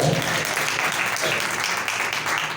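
A church congregation claps loudly and steadily, a dense wash of applause filling the whole moment with a faint voice or two beneath it.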